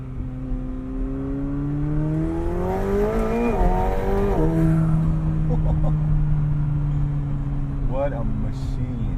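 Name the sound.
McLaren 720S Spider convertible engine revving in track mode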